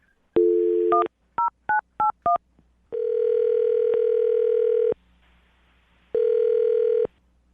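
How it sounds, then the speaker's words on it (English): A handset beeps through several quick dialing tones in a short burst, then long steady ringback tones sound twice with a pause between. "I'm going to dial the phone number right now, get her on the phone"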